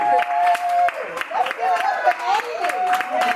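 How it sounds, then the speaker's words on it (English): Applause from an audience at a business presentation event, scattered clapping mixed with tonal voices and crowd noise, fairly close and lively over its length. "Let's do a round of applause for Zyykirrah Casado."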